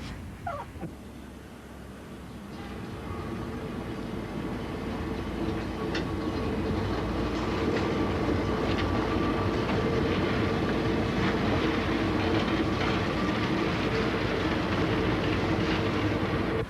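A Sunlander passenger train running between Rockhampton, Townsville and Cairns rolls steadily on its tracks, a constant rumble and low drone with faint wheel clicks that swells slightly after the first few seconds and then holds.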